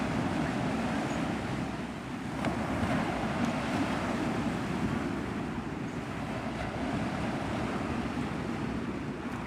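Ocean surf rolling in at Navarre Beach, Florida, a steady broadband wash of breaking waves with wind buffeting the microphone, loud and continuous throughout with no voices.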